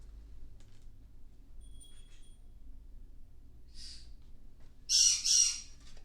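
A bird squawks indoors, two short harsh calls late in the clip after a fainter earlier call, over a quiet low background hum with no talking.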